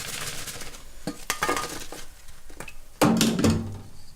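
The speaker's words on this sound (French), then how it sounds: "On les sort de la friture, on les égoutte bien." Fried saupe fish lifted out of 180-degree frying oil and drained in a kitchen: close metallic clinks and scrapes of utensils against the pan, with a soft background sizzle and sharper clatter near the end.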